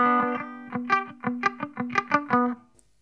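An electric guitar on a clean amp setting through a compact BOSS Dual Cube LX amplifier plays a short, bright phrase of plucked notes, ringing clearly and fairly loud with a soft decay at the end.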